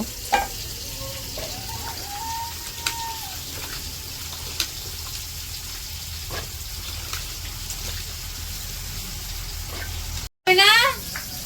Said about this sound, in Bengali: ওইদিকে তো মাছ ভাজতে দিয়ে দিছে